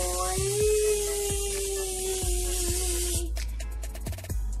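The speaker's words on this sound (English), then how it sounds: "get your Pam, open it, just squirt it" Pam cooking spray hisses steadily into a baking pan for about three seconds under a low background hum, then stops, followed by a few light clicks and handling sounds.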